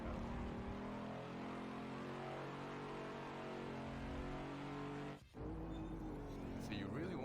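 A Ford Mach 1 engine in a racing video game at Watkins Glen roars at full throttle, a loud sustained high-revving drone that cuts briefly for a gear change, with someone talking over it.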